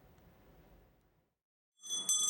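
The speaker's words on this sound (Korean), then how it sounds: "차가운 공기를 가르고 청아한 종소리가 울려 퍼집니다." A Salvation Army charity kettle hand bell rings clear, bright strokes in cold year-end street air. It comes in near the end after a quieter stretch and a brief silence.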